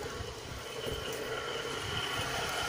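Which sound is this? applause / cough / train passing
train passing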